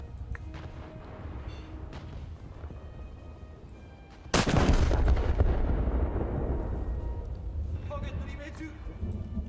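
A battleship's rear gun turrets fire in a naval video game, one heavy loud boom that rolls off into a long rumbling decay, with talk before it.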